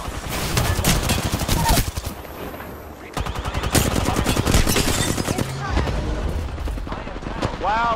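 Rapid bursts of gunfire from the video game Apex Legends, repeated volleys with sharp close shots mixed with game effects, with players talking over the action throughout.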